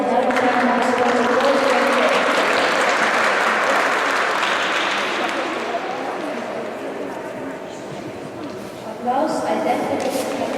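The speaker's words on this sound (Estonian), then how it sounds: "Aplaus, aitäh!" A crowd at a youth rhythmic gymnastics award ceremony claps in sustained applause that gradually fades, then an announcer's voice comes in over the hall near the end.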